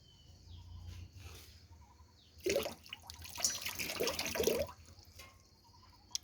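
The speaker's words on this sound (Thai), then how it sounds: "เกลือเม็ดเนี่ยเดี๋ยวล้างน้ำก่อนนะจ๊ะ" Rock salt rinsed under running tap water, a mid-clip burst of splashing and rushing water lasting about two seconds, close, with quiet background before and after.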